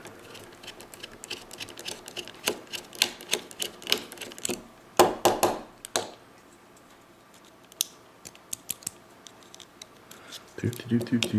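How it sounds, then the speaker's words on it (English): Screws are worked out of a Benchmade Mini Griptilian folding knife with a small driver, giving scattered light clicks and ticks. A brief, louder rattling burst sounds midway, close and quiet overall. "As I struggle to get the screw out."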